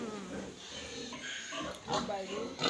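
Pigs and piglets on a pig farm grunt and oink softly at close range in short irregular bursts, with a voice talking over them.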